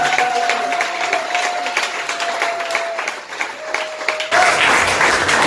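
A church congregation claps enthusiastically for several seconds, dense, steady applause filling the room while a voice briefly carries over it.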